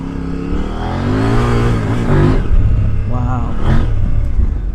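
KOVE 800X adventure motorcycle accelerating hard with traction control off, engine note climbing and shifting through loud continuous revs, with wind roar and a rider talking over it.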